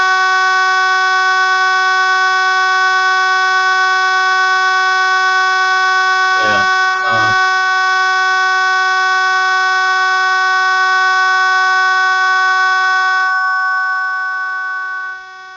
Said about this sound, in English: this headset today has been beeping all the time